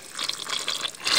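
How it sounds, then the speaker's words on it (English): A nozzle in a camper van toilet sprays water in a steady, hissing rush with a slight swirl. It is close and moderately loud, swelling a little toward the end, with no voices. "push it down, and it just sprays out water"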